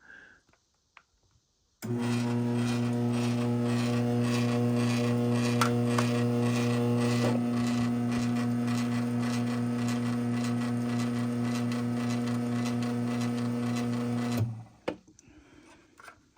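A Chamberlain AccessMaster M3100 chain-drive garage door opener starts up and runs for about thirteen seconds with a steady motor hum and faint chain rattle, then stops abruptly.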